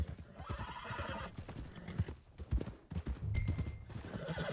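A horse in a video game clip-clops along in uneven bursts of hoofbeats, close and moderately loud, with a whinny rising through the middle of the stretch and a few brief sharp knocks.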